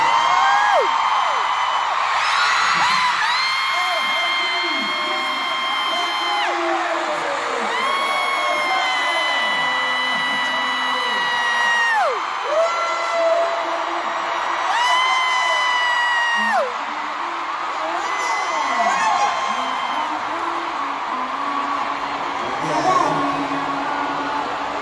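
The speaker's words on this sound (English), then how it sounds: "we can actually hear an army cheering" Loud crowd of fans cheering and screaming at a concert in LA, a sustained roar with rising whoops and high shrieks, continuous for the whole stretch.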